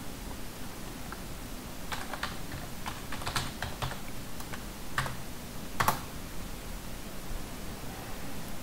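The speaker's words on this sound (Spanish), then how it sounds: "Introducimos usuario y contraseña." Keys tapped on a computer keyboard while a username and password are entered, a few scattered soft clicks over steady background hiss, faint and close.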